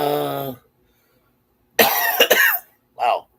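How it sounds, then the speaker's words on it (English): Two loud, harsh coughs close to the mic, with a short lighter cough following after a pause; a brief voiced sound comes earlier. "I might cough occasion, so I apologize in advance."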